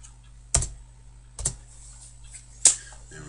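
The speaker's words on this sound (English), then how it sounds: "I'm just hitting enter to repeat that last command" Three separate computer keyboard presses while drafting a site plan in CAD, sharp close clicks spaced about a second apart over a quiet electrical hum.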